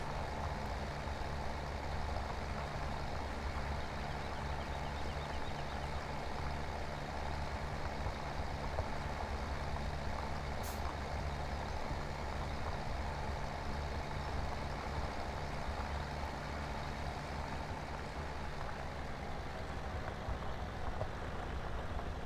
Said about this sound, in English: the engine revs. The engine's not working as hard.